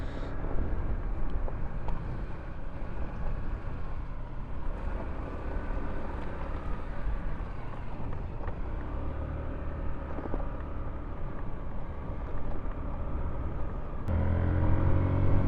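A Hero Xoom scooter rolls along a road under a steady low rumble of engine and tyre noise, with constant wind buffeting the microphone and a brief louder surge near the end.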